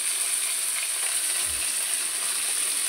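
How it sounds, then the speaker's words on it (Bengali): Potatoes cut into large pieces frying in oil in a wok, a steady hiss of sizzling, moderately loud and even throughout with no talking. "আমি কড়াই যেই তেলটা আছে ওই তেলের মধ্যেই মানে আলু দিয়ে দেবো"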